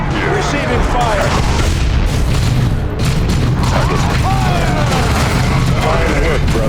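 Artillery barrage explosions from the Warhammer 40K Dawn of War 2 Chaos Rising video game: a dense, continuous rumble of booms with scattered gunfire, while voices call out over the battle.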